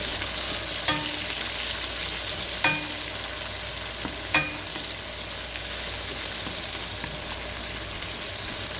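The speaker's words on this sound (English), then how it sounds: "We will start frying our coarsely chopped garlic and also white cooking onions all together wonderfully." Coarsely chopped garlic and white cooking onions fry together in oil, a steady close sizzle with a few sharp clinks of a utensil stirring the pan, no talking.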